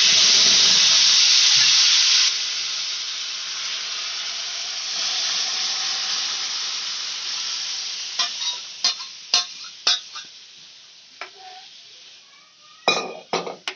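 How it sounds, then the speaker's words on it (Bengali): Boiled dal is poured into a hot pan of five-spice tempering for a bottle-gourd and bitter-gourd shukto dal. A loud hissing sizzle quiets abruptly, then settles into a softer simmer with a run of distinct spoon clanks against the pan. "এবার আমি সেদ্ধ করা ডালটা আস্তে করে দিয়ে দেবো"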